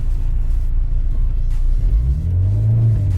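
An Acura RSX fitted with a new Ktuned clutch master and slave cylinder pulls away, its engine giving a loud, close, low rumble that rises slightly as the car accelerates.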